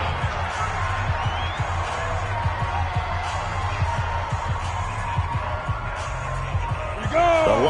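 Stadium crowd at a football game between quarters, a steady broad roar of spectators with scattered shouts and whoops, heard continuously at moderate level throughout, with a brief louder swell near the end.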